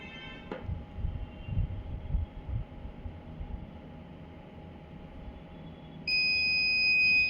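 A Fujikura 43S fusion splicer heater signals it has finished with a single sustained electronic beep near the end, after a low background hum.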